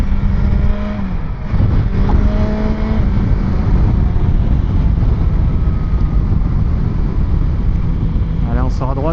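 A 2025 BMW S 1000 XR motorcycle engine drones loudly and close as the rider cruises, the tone stepping through gear changes under heavy wind rush, with a voice talking over it.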